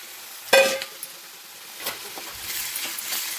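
Prawns dropped into hot oil with onions and gongura give a sharp sizzle burst, then settle into a softer, steady frying crackle with faint stirring, close by with no talk.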